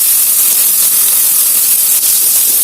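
Onions hit hot oil for an egg fry, setting off a loud, dense, continuous sizzling hiss that fills the whole moment with no pauses and no voices.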